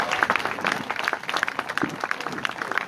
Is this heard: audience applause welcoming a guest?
yes